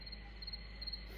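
Crickets chirp in a steady, continuous high trill that sits alone at a moderate level with no voices, making a quiet ambient bed throughout.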